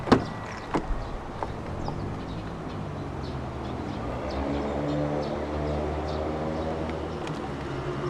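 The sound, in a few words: car side mirrors folding in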